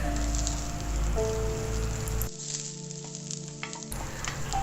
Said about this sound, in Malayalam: ഈ സമയത്ത് തന്നെ ഞാൻ കീറി വെച്ച പച്ചമുളക് ചേർത്ത് കൊടുക്കുകയാണ്.